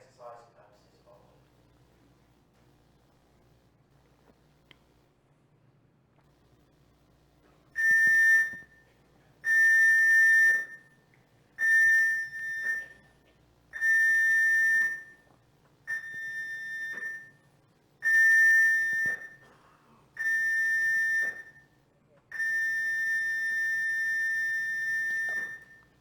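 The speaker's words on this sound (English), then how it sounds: "The signal you just heard was the general emergency alarm signal" General emergency alarm signal sounded as an exercise: a series of loud, shrill whistle-like blasts, seven short ones followed by one long sustained blast, clear against a quiet background.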